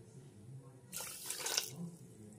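Water poured from a bowl onto sugar in a pan to make thin syrup, a short, close splashing pour of about a second between quiet moments.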